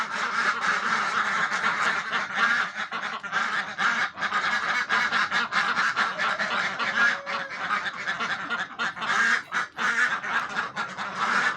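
Pekin ducks at a Cumilla duck farm quack steadily for several seconds, many birds calling over one another in a loud, busy chorus that dips briefly near the end.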